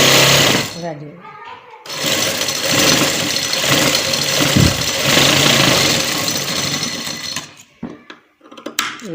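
A sewing machine stitching a cutwork design on trousers runs as a steady, buzzing mechanical whir for about seven seconds, with a voice speaking over it and brief pauses at the start and end.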